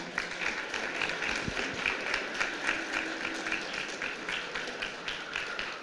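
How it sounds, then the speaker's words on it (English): Audience at a flagship discussion forum event applauds with fairly quiet, steady clapping and rhythmic hand claps throughout, heard at a distance with no talking over it. "please give a round of applause for my co-moderator"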